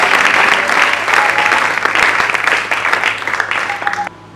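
A church congregation at an apostle's ordination breaks into loud, sustained applause, a dense wash of many hands clapping that runs for about four seconds before cutting off abruptly.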